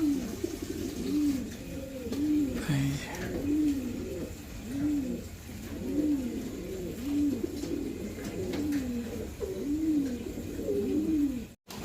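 Pigeons coo over and over in a steady rhythmic series of soft, rounded calls, close and clear, with faint rustling behind and no talking.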